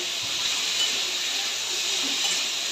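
Teasel gourd and potato pieces frying in a pan with salt and turmeric, a steady, even sizzling hiss close up with no other sounds.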